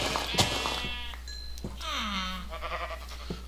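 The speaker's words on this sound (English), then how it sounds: "there's some more sheep up there." Sheep bleat in the Minecraft game FTB Infinity, several short wavering bleats spread across the moment, clear and fairly close.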